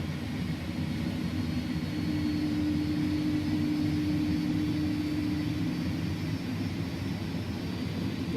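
Airbus A310 jet engines in a flight simulator spool up under full takeoff thrust, a steady loud roar with a sustained low whine that holds for several seconds and then fades slightly, no talking.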